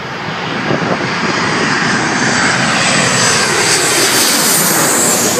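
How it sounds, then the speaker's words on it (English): A jet airliner passes close overhead while landing at Midway Airport in Chicago, a loud, steady roar that builds and holds throughout with no talking. "We were watching the jets land for a while."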